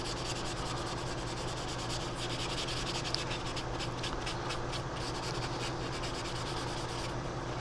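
Hand sanding scrubs across the plastic hull of a Revell 1/700 Colombo Express container ship model in quick, close, rhythmic rasping strokes, with no talk.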